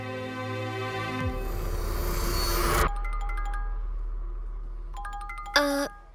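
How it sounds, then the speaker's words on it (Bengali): A mobile phone ringing with a bright electronic tone that starts after a whoosh of background music and repeats in short melodic bursts near the end. "তোমার ফোন বাজছে।"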